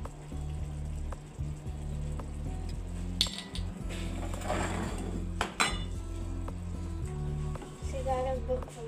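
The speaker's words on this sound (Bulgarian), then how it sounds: "Сега разбъркваме." Beef stew with wine, black pepper and salt being stirred in a multicooker pot, giving scattered clinks and scrapes of a utensil against the pot over a steady low hum, with a voice speaking at times.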